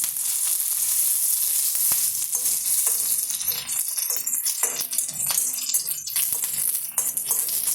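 Curry leaves crackle and sizzle as they fry in hot oil for a raw plantain pakkavada, a loud, continuous bright hiss with scattered pops and spits and no voices.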